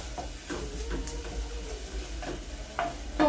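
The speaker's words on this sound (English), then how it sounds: "we are cooking the potatoes" Potatoes fry in a pan with onion and ginger close at hand, giving a steady soft sizzle with scraping stir sounds from a utensil. A couple of sharper clinks come near the end.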